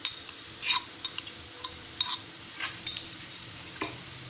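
Chicken meat with ginger-garlic paste, green chillies and khar is stirred in a pan, giving soft scraping and scattered light clinks of a utensil against the pan over a faint, steady sizzle.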